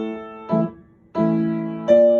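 Flat 2 major chord used in a dominant function in a klezmer-style piece, played as three sustained, clear harmonic chord strikes in succession, the last one the loudest, with no voice.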